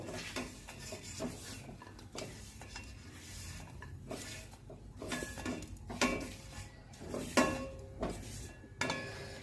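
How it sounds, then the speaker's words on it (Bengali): Fried raisins and cashews being scooped out of a pan of ghee over a low flame, with repeated metal spoon scrapes and clinks against the pan in irregular bursts, close up, no talking. "সমস্ত কিশমিশকে তুলে নেবো কিশমিশ কাজু বাদাম সব তুলে নেব"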